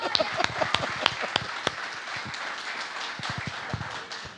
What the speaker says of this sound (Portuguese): Palmas ao Espírito Santo.